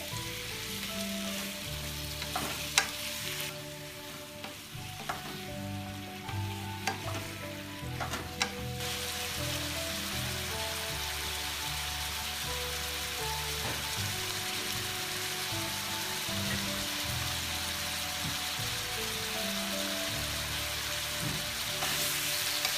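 Ridge gourd being fried with spices in a pan for a hilsa fish curry, producing a loud, continuous sizzle with stirring scrapes and clatter in the first half before settling into a steady hiss.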